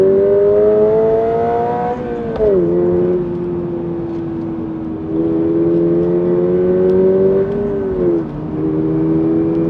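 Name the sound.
sports car engine revving and accelerating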